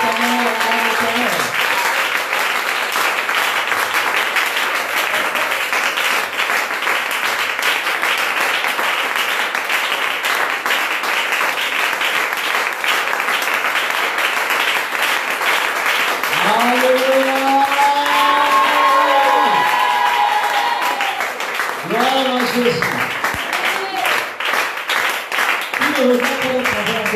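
A church congregation at a fasting-and-prayer worship service claps steadily and loudly for the whole stretch, with voices rising in sung or shouted acclamations over the applause at a few points.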